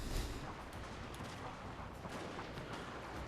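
Dense gunfire in a Total War: Shogun 2 Fall of the Samurai battle, a steady wall of overlapping shots and rumbling volleys with no talk.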